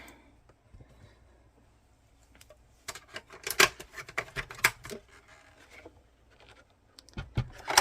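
A manual die cutting machine cranking paper through its plates for a fun fold card, a burst of ratcheting, clattering mechanical clicks and rolling grinds, close and fairly loud, stopping and starting again.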